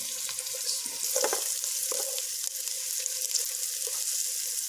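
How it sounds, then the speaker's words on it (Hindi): Onions soften in oil with garlic-ginger paste for chicken macaroni, giving a steady, close sizzle and fry with a few faint stirring clinks, no talk. "प्याज को हम हल्का सा नरम करते हैं।"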